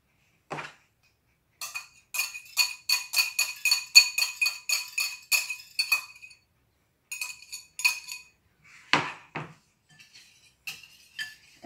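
Milk and two egg yolks whisked in a bowl for American-style pancakes, a quick run of light metallic clinks and taps against the bowl, then a pause and a few scattered knocks.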